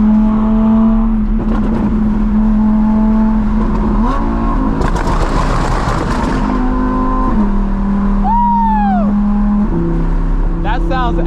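Audi R8 with a loud aftermarket exhaust, driven hard from inside the car: a droning engine note steps up and down through gear changes, with a roaring surge of acceleration midway and a rising whine later, all loud and close.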